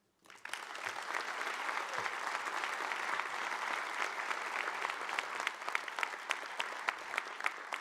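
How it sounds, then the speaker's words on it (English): An indoor civic audience applauds Newark's police director as he stands to be recognized. The clapping is sustained and dense, continuing steadily for several seconds with no talking. "he deserves a lot of praise and applause from the people of the city of Newark"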